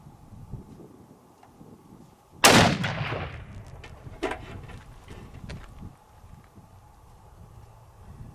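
An Accuracy International Mk13 Mod 7 sniper rifle fires a single loud shot on a 200-yard test range, a sharp crack followed by a rolling decay that trails off into faint outdoor background.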